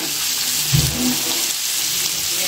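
Food frying in a pan, with a steady crackling sizzle throughout and a brief low clunk partway through, heard up close with no talking.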